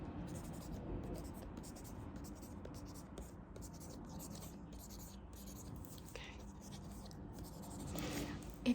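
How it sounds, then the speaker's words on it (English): Pen writing notes on paper during a quiet cranial nerve exam, a soft continuous scratching close by with whispery breath and faint rustles, a brief louder tap near the end. "I'm just gonna write down some information from this test really quick."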